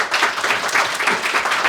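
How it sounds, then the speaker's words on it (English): An audience at a film launch screening Q&A applauds the cast in a short, dense burst of many hands clapping together, loud and steady, with no talk over it. "A big round of applause for the cast that were there today"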